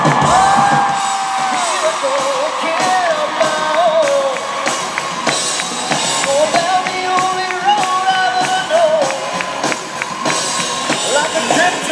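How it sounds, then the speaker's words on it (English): Pittsburgh convention crowd cheering and whooping for Jared Padalecki and Jensen, loud and sustained, with yells over continuous loud music and singing throughout. "a big fat round of applause for Mr. Jared Padalecki and"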